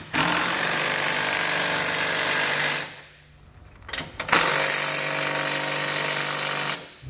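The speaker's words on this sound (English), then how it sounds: "tighten down this nut, followed by this one. I'm going to use a 19mm socket to get that done." A power tool with a 19mm socket tightens nuts on TorkLift tie-downs fitted to a 2020 GMC Sierra 2500, two loud close bursts of whirring and hammering separated by a short pause.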